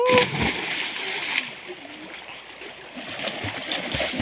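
Someone jumps into a farm well to swim, and a sustained splash and slosh of water echoes in the well as people talk nearby.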